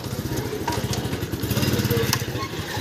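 Motorcycle carrying three riders, its engine chugging with a steady, fast, pulsing beat close by, with faint voices in the background.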